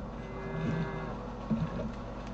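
Cow in the Fortnite video game giving two low moos about a second apart, moderately loud against steady ambient game noise, with no talk.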